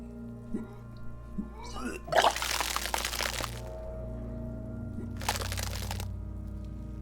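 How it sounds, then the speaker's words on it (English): Vomit gushes and splashes onto the floor in Disco Elysium, coming out in two loud, wet bursts over a low, steady musical drone. "Your body curls and pushes it out, burst by burst, until a pool of vomit lies under your feet"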